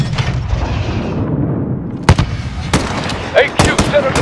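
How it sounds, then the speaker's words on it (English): Gunfire and explosions in the Call of Duty: Modern Warfare (2019) embassy mission, with sharp loud shots and booms over a rumbling battlefield din, mixed with shouted game voices. "They're swarming the field! We're in their field! We need open fire!"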